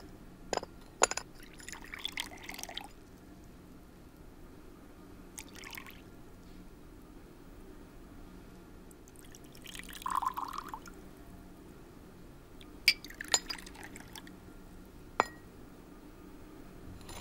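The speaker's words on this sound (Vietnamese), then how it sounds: "Rót trà đi con." Tea trickles into cups in a quiet domestic scene, with a few soft splashes and clinks of ceramic spread over a hushed background.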